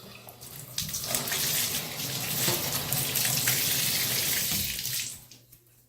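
Tap water running steadily into a tub as a hand is rinsed under it, a close continuous splashing gush that swells, then cuts off near the end.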